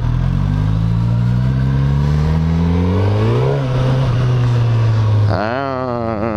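A Suzuki GSX-S 1000 ABS four-cylinder motorcycle accelerates hard through the gears, its engine note rising in pitch, dipping at a shift, then climbing again, loud and close with no talk.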